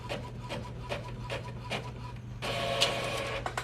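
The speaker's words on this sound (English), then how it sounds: "it will just start printing on your regular printer" An ordinary office printer running a page, a steady mechanical whir with soft rubbing and feed noises, growing louder and denser partway through as the sheet passes, with no talking.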